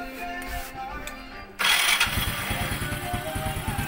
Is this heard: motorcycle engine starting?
yes